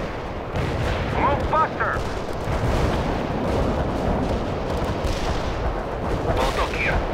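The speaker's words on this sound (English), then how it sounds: "Artillery strike hit the mark." Artillery strikes and gunfire from the World in Conflict PC war game, a dense continuous barrage of booms and rattling shots throughout, with a radio-style voice shouting an order over the din.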